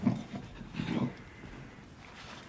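A puppy pants and gives soft whimpers close by, in a couple of short breathy bursts with quiet pauses between, over light room noise and with no talking.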